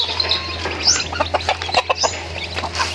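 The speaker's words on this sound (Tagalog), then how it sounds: "Ipakaon niya yung mga chickens." Chickens being fed cluck in short, irregular bursts, close and fairly loud, with a steady low hum running underneath.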